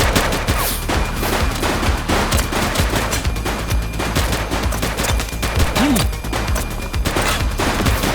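Rapid gunfire bursts from a police shootout in The Precinct video game, a dense, loud, continuous volley of shots layered over low rumbling background, with no voices.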